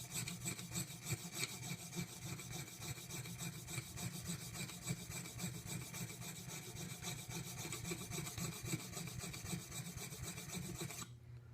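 A woodworking chisel is sharpened by hand, giving a continuous gritty rasp of steel rubbed steadily back and forth on a stone. The rubbing is close and even, and it cuts off abruptly at the very end.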